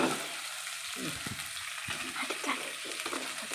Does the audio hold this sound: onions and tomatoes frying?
yes